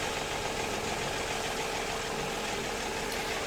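A small tractor engine idling in the Farming Simulator 2017 video game, a steady, even, mid-pitched hum with a faint knocking texture, constant in level throughout.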